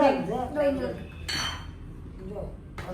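Glass bottles clink and knock together as they are unpacked, a few bright chinks scattered among rustling, with someone speaking over parts of it.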